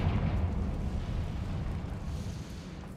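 Confringo spell explosion in the video game Hogwarts Legacy: a heavy, close, fiery blast with deep rumbling and crackle that rolls on for about three seconds before slowly easing off.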